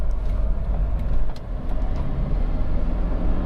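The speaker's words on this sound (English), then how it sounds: "I know it's only a brief drive, but it's really just to show you the car in operation" A Honda CR-V 2.2 i-CTDi EX diesel on the move, giving a steady low rumble of engine and road noise that stays loud and continuous with no voices.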